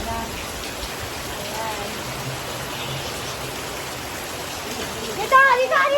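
Heavy typhoon rain pours as a steady dense hiss, with a voice speaking briefly near the end.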